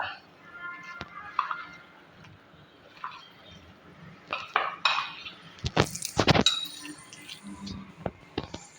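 Soybean chunks being mixed with chili masala in a bowl, heard as scattered clinks and scrapes of a utensil against the dish, sparse at first and then busier and louder, close up.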